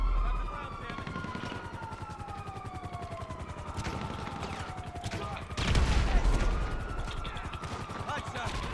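Gunfire crackles through a GTA 5 fight, a steady rattle of distant shots with a louder burst near the middle, under a background hum and faint talk.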